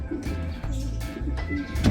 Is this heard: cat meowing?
no